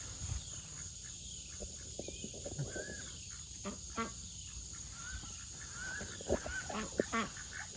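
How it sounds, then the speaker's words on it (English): Ducks feeding on cantaloupe give soft, scattered quacks and dabbling clicks, fairly quiet and close, with a few brief louder bursts near the end. "Ducky, ducky, duckies."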